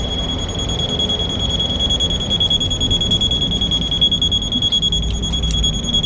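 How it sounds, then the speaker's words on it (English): A NIU KQi Air electric scooter's anti-theft alarm sounds loudly as a steady high-pitched electronic tone, held continuously with faint beeping pulses over low background rumble. "the scooter alarm goes off and it's extremely loud"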